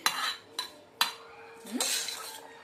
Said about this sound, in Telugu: ఇలా మిక్స్ చేసేసుకుంటే మన మసాలా చాట్ అనేది రెడీ అయిపోయింది